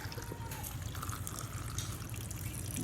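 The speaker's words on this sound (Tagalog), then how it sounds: "Lagyan na natin ng tubig." Water is poured into a cooking pot for crab soup, with a steady, close pouring and trickling that runs without a break over a low background rumble.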